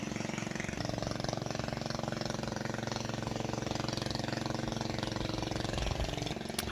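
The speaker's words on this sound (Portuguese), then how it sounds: "O motor passando." An engine drones steadily throughout with a rough, pulsing idle, close and continuous, shifting slightly in pitch near the end.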